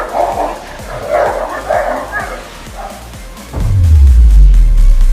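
A bulldog and a Dogo Argentino fight with rapid yips, growls and whimpering barks in a busy, close scuffle, then a loud low rumble swells over the last second.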